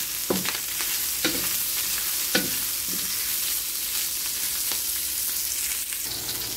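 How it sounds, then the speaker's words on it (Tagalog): Pork sizzles steadily in its own rendered fat in a pan while cooking for pinakbet, with a constant bright crackle and occasional soft clicks of stirring. "Pagmamantikahin lang po natin para yung sarili niyang taba, yun yung ating panggisa"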